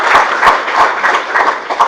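Audience applause for a chief guest at a talk on an anti-corruption bureau, a steady crowd clapping with rhythmic swells, fairly loud and close, continuous throughout with no voices.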